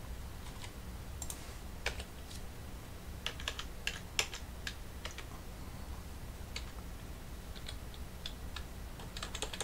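Keys on a computer keyboard being pressed during a PC case swap and SSD replacement on a Dell Inspiron 7706, with scattered, irregular clicks over a steady hum of fans and background noise.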